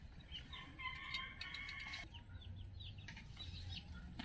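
Chickens cluck and chirp softly in short bursts at a distance, over low background noise.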